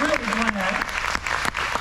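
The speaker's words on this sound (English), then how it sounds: "So we applaud you guys" Church audience applauding newly hired youth and young adult pastors, a dense, steady wash of clapping filling the short moment, with a voice talking over it.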